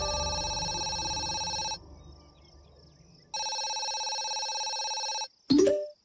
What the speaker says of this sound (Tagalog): Ilang sandali lang ay tumunog ang cellphone ko